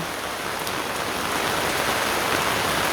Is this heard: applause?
no